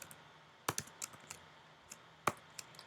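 Computer keyboard typing Zoho Deluge code, a handful of sharp, close key clicks spaced irregularly across a few seconds in otherwise quiet surroundings.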